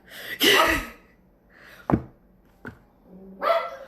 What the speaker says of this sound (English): It's a cute little Maltese.